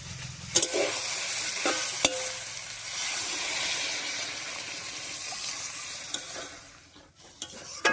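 Water is poured into a pan of spiced vegetables with pumpkin vine and dried fish, setting off a brief sharp hiss and sizzle, followed by a stirring scrape and quieter simmering with a few clinks of utensils.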